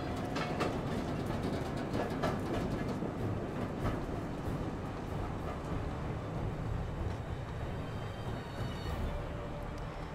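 A train in the video game Secret World Legends rumbles past with a steady, loud rolling clatter and rail noise that fills the whole stretch without letup.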